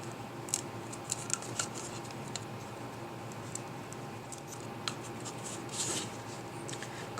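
Quiet, scattered snips and clicks of scissors cutting over a faint steady hum, with a louder crisp cut near the end; no one speaks.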